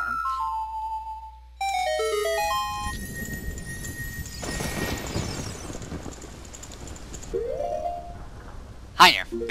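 Rain and thunder summoned by the Song of Storms in The Legend of Zelda: Ocarina of Time: a short ocarina melody gives way to a steady wash of rain with rumbling thunder, and a sharp chime near the end.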